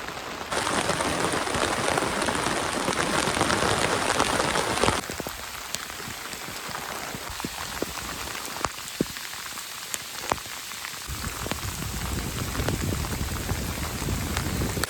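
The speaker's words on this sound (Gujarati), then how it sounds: "બહાર વરસાદ એવો ભૂકા કાઢે છે" Heavy monsoon rain hammers a tent at a forest campsite at night, a loud, dense patter that drops to a lighter, scattered drumming of individual drops partway through, then thickens again near the end.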